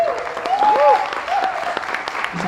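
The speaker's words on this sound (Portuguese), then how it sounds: "Um salve de palmas" Audience applause at a live performance, clapping spread across the room under a sung voice line that rises and falls over it.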